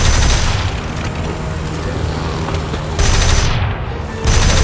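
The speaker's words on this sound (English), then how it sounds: "Very inaccurate bomb shot." In the War Thunder air combat game, a bomb dropped from a LaGG-3 fighter plane goes off, and the loud rumbling blast fills the clip under steady engine drone, with no voices.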